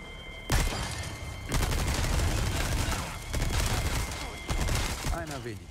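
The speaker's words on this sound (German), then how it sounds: "jetzt schießt hier noch irgendeine Selbstschussanlage auch noch." Bursts of rapid automatic gunfire from an automated gun trap in Resident Evil 4 Remake, several long volleys, loud and close, with brief pauses between them.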